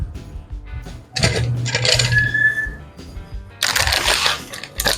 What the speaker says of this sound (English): And then we're going to add a bag of white chocolate chips.